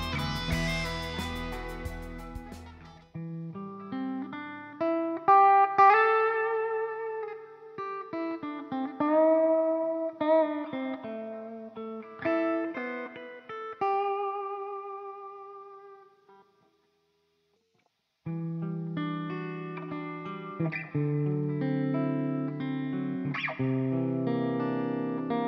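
Electric guitar recorded through a computer reverb plugin: notes and chords ring out with a washy reverb tail, sustaining into a brief silence before another bright strummed passage.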